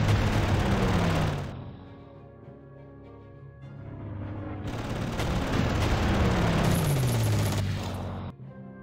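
Gunfire and heavy combat booms in the World War II strategy game Panzer Corps, loud rumbling volleys that ease off briefly and then swell again before cutting out.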